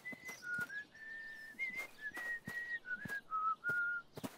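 A person whistles a simple tune with their lips, a series of clear sustained notes broken by soft breathy clicks, close and fairly quiet.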